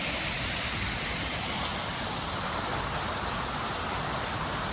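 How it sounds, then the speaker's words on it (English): A waterfall on Miyajima Island pours in a steady, loud, broadband rush of falling water that continues without a break and with no voices over it. "this waterfall is so cool."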